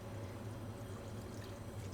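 Chicken stock pours steadily into a pan in a kitchen, a continuous faint splashing trickle with no other sounds.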